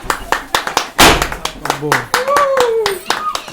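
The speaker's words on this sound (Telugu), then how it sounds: "ఇసులో చప్పట్లు కొట్టు" Hands clapping at a family marriage-day celebration at home, a run of sharp close claps in an uneven rhythm with a louder burst near the middle, mixed with voices talking and exclaiming.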